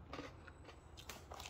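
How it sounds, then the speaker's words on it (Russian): Crisp toasted, lightly salted Yubileinoe-style cookie bitten and chewed up close, giving a few short, faint crunches spaced across a quiet moment. "Блин, оно такое хрустящее."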